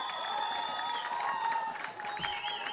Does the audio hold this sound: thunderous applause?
yes